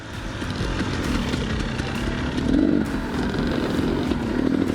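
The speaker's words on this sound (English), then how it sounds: "Might just listen to his bike then." A dirt bike engine on mountain single track in British Columbia. It keeps up a loud, rough, continuous drone, with the revs swelling briefly about halfway through and again near the end.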